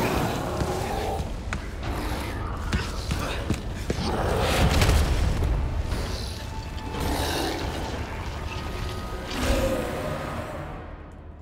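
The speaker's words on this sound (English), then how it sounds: "Man, cannonballs don't screw around in this game, do they?" A cannonball explosion in the video game Resident Evil 4 sounds as a loud, dense stretch of booming blasts, rumbling debris and clattering effects, peaking midway and again near the end, with a voice briefly audible.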